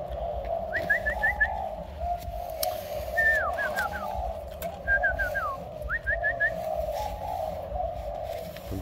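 Domestic pigeons coo in short repeated rolling phrases, several bursts over a steady murmuring background, fairly close and clear.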